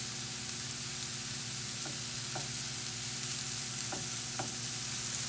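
Mushrooms fry in a pan, spread in an even layer to toast, giving a steady close sizzle with a few soft scraping stirs scattered through.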